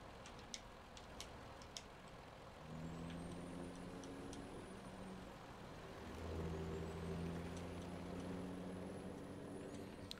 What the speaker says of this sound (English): it's time to move this truck